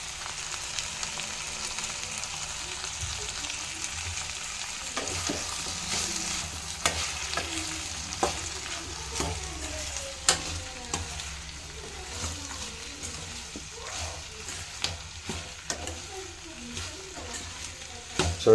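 Radish chutney being stirred in an oily pan after salt goes in, a steady low sizzle with repeated spatula scrapes and taps at close range throughout.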